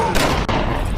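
A single sharp gunshot in a crime action film, loud and close, cutting through a dense, busy soundtrack.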